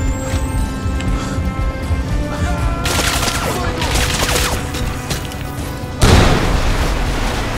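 An explosion in the video game Crysis Remastered, a loud blast followed by a second, heavier boom over ongoing game noise.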